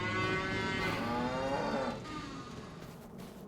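Several farm cows moo loudly and close by, with overlapping drawn-out calls that ease off toward the end.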